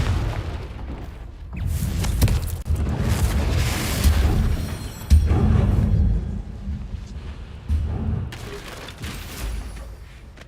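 Repeated fiery blasts from the Confringo spell in Hogwarts Legacy boom and crackle through a busy fight, several loud bursts following one another over continuous rumbling action.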